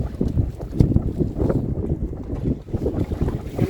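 Strong wind buffets the microphone while sailing on a boat with the tide going out, a close, gusty, uneven roar with low rumbling throughout and no speech.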